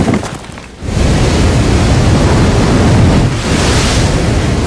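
Powerful water jets inside an LG TurboShot top-loading washing machine blast in a loud, continuous rushing spray. The gush briefly dips near the start and surges again, and no one speaks over it.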